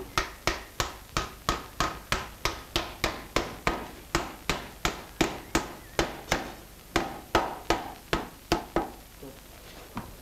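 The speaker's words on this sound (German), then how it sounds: "Nun kann man den Setzreifen, der die zusammengebrachten Daubenköpfe festhalten soll, mit dem Hammer vortreiben." A cooper drives a setting hoop down over the gathered stave heads of a wooden wine barrel with a hammer. Sharp, loud metallic-wooden blows repeat steadily, about two per second, close up, with no talk.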